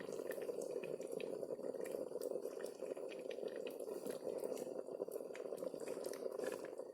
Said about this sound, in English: All right, so now it's starting to boil.